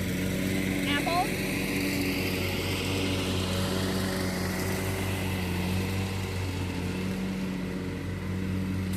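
Petrol lawn mower running steadily in a backyard orchard during an apple harvest, a constant droning engine hum held throughout with a few brief bird chirps over it.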